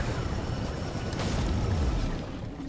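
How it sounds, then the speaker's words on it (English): A helicopter crashing into water in the video game Fortnite: a loud, sustained broadband rumble and whoosh with a low booming swell near the middle, steady and close, with no voices. "Our helicopter broke."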